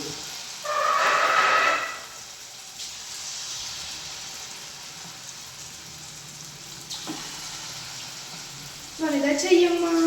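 Punugulu batter frying in hot oil, with a loud burst of sizzling near the start and again at the end over a steady background hiss, while a voice talks between.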